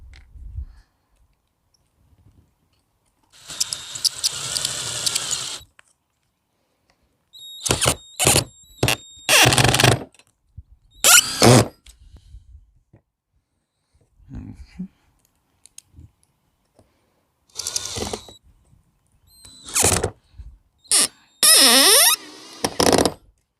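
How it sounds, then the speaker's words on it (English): Screws are driven through a U-channel floor transition strip where a higher floor meets a lower one, with several short, loud mechanical bursts separated by quiet pauses. "now we take our screws in our U-channel and we will install it just like we did in the other ones."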